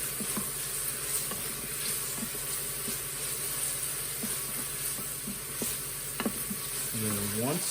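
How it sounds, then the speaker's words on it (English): Diced garlic sautés in a pan for no-bean chili, giving a steady soft sizzle with occasional clinks and scrapes of stirring; close, moderately quiet, no talking. "I'm just going to really saute those around a little bit until they become fragrant"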